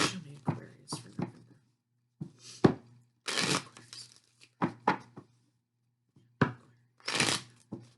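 A cheap bootleg tarot deck is shuffled by hand in several quick riffling bursts separated by short pauses, close and crisp, with no talking.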